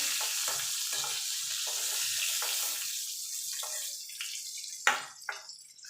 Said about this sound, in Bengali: পটলগুলো ভাজা হয়ে গেছে আমি তুলে নেবো